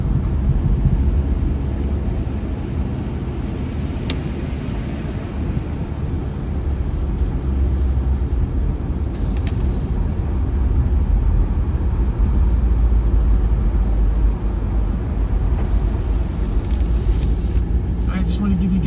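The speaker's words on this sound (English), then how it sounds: "You got about 4 plow trucks up in front of us." Heavy trucks, several snow plows moving in a line across the lanes, rumble steadily along a snowy parkway at night during a blizzard, a continuous loud low road drone with tire and engine noise throughout.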